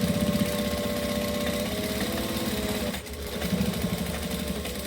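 A sewing machine runs a back stitch along a bag seam with vinyl, its motor whirring steadily with a rapid needle chatter that dips briefly and picks back up, loud and close.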